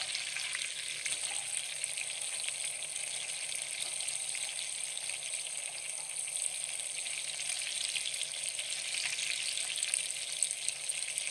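Aromatics sizzle and fry steadily in brown butter for a chicken stew, a continuous close hiss with no voices over it.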